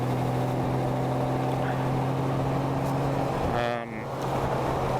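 A Honda Goldwing GL motorcycle engine pulls under open throttle, a steady low droning hum with a tonal whine, close and fairly loud, dipping briefly near the end, with wind rush around it.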